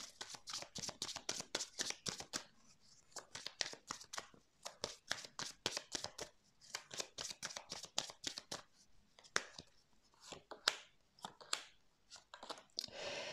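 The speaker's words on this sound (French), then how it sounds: "Je vais mettre des cartes sur cette emprise là" Tarot cards being handled and laid out on a table: a close, rapid series of crisp papery flicks, snaps and slides, sometimes in quick clusters, sometimes spaced with short pauses, quiet overall and without talk.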